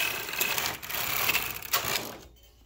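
A Singer/Silver Reed knitting machine with ribber knits English rib, its carriage sliding across with a rattling, clicking mechanical whir and brief clacks, heard up close before stopping near the end.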